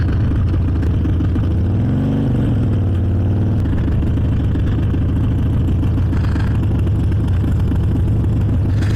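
A Harley-Davidson motorcycle with swapped mufflers rumbles steadily along a road, its low engine note rising and falling as it rides toward the beach, with wind noise throughout and no talking.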